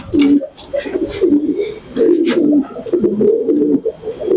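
Pigeons coo repeatedly in low, throaty rolling phrases at a pigeon market in Pune. The calls come close and loud in overlapping bursts with short pauses between them.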